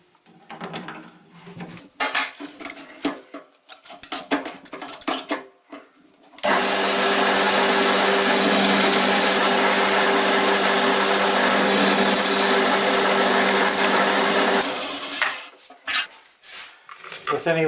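A drill bit boring through pine wood for a baseboard, a loud steady grinding whir lasting about eight seconds after scattered handling noises, then stopping.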